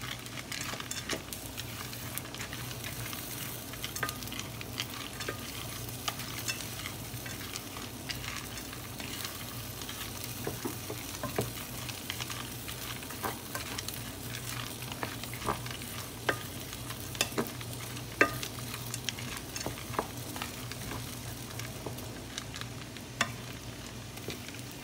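Butter and corn fry and sizzle in a pan with a steady, soft crackle, while a utensil stirs and scrapes through the kernels in scattered clicks. The sound is close but quiet, with no voices.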